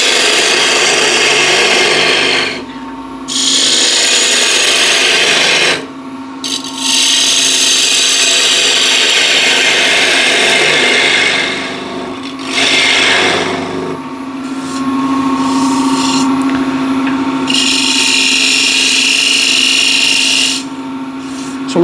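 Spindle gouge cutting a mahogany plate spinning on a wood lathe, a loud sustained scraping whine broken by several short pauses as the tool lifts off, with a steady motor hum beneath throughout.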